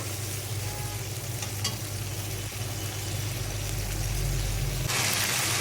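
Snakehead fish sautéing in a spice paste with potato nearby, a steady loud sizzle and frying crackle with stirring scrapes throughout, close up and without talk.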